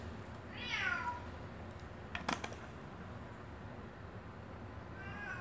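A cat gives a single rising meow near the start, followed by a few soft clicks and a faint second meow at the end, in a quiet room.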